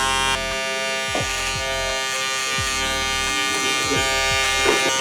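Electric hair clippers buzz steadily and close up as a barber cuts a drop fade on curly hair, working the guard lever from closed to open, the hum holding constant with slight shifts in pitch.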